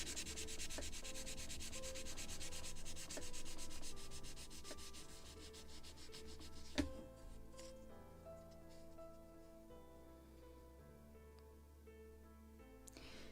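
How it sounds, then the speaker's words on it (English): Quiet, close sanding of small wooden gun carriage parts for a model of the 1776 gunboat Philadelphia, a soft repetitive rubbing that runs on and off with one sharp tap midway and no talk. "a little more of sanding"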